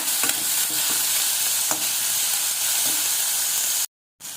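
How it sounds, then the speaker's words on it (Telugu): Onions fry in a pan until brown, a constant close, bright sizzle with occasional stirring scrapes, ending in a sudden brief silence before the sizzle resumes. "ఈ ఉల్లిగడ్డలు బ్రౌన్గా బాగా మంచిగా వేపుకోవాలి."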